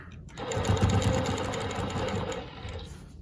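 A longarm quilting machine stitches a Baptist fans pattern along rulers, its needle motor whirring in one steady, fast run after a brief quiet start, close and clear.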